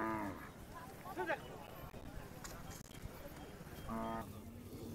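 A farm bull lows in a rural Marathi village setting, giving a few short, fairly close moos spread across the moment while people talk over a noisy outdoor background.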